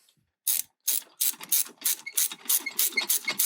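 A ratchet with a pass-through socket clicks on a car battery terminal of a 2017 Nissan Pathfinder, a run of about a dozen crisp ratcheting bursts, close and loud, speeding up toward the end with no talk.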